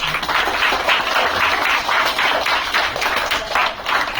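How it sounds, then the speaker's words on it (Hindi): An audience at a morning lecture session claps their hands in steady, rapid rhythmic bursts, loud and close, sustained throughout with no talking. "बजाओ ताली"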